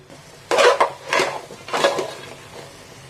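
Ground coconut and spice paste being stirred into mutton curry in a pot, three separate bursts of scraping and stirring against the pot, moderately close, with no talk.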